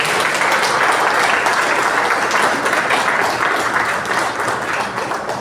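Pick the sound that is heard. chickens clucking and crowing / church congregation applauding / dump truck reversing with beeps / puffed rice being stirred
church congregation applauding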